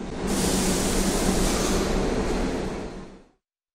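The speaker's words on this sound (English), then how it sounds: "Subway train." A subway train gives a steady, loud rushing roar with a low rumble that holds for about three seconds, then stops abruptly into silence.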